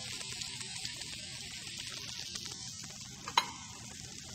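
Peanuts stir-frying in a hot pan for pad Thai, a steady close sizzle with soft scraping of the stirring, and one sharp metallic clack near the end.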